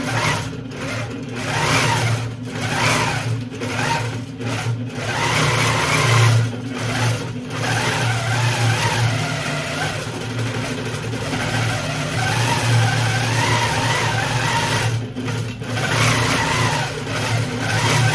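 A long arm quilting machine stitching dense, small quilting: a continuous motorized whir with a fast mechanical stitching rattle that rises and falls in speed, loud and close, with brief pauses.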